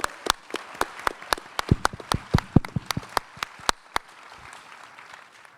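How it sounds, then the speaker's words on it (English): A conference audience at an Ethereum developer event claps in sparse, distinct handclaps that build briefly into a denser patter, then fade out after about four seconds. "Give these guys a round of applause,"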